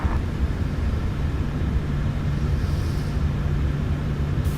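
A light aircraft engine idles with a steady low drone and rumble while holding short, ready for takeoff, continuous and fairly close with no talk.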